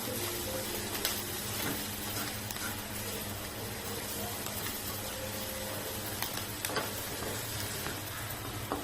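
Onion with grated garlic and ginger frying in a pan while paneer momos are being made, giving a steady close sizzle with occasional stirring scrapes and a low background hum throughout.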